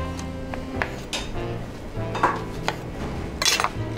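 Knife cutting champignon mushrooms on a board, a series of irregular taps and clinks close up, with faint kitchen clatter in between and no talking.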